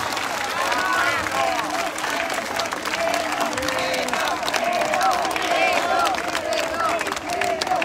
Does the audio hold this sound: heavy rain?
no